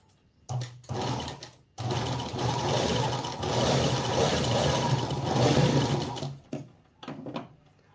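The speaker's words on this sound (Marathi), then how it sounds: "आपल्याला एकदम सरळ अशी शिलाई घ्यायची" A sewing machine stitches blouse fabric in a steady close whirring run of several seconds, preceded by two short starts and ending with brief stops and clicks.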